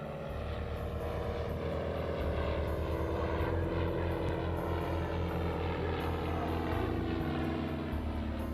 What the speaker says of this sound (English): After a couple of passes over the air show, Terry and Eric land at the seaplane base